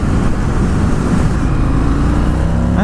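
A 2020 Indian FTR 1200 motorcycle engine pulls hard in top gear, a loud, steady, close-up drone with wind roar that holds throughout with no speech.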